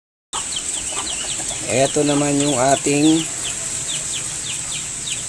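A rooster and two hens cluck close by in a coop, with repeated short clucks over a steady background hiss. Someone talks over part of it.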